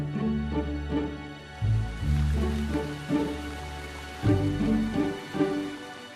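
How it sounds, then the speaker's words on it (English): Steady rain falls on a farm in August during the oat harvest season, a continuous hiss with patter and some low rumbling swells, heard alone with no voices. "But it's been raining all month."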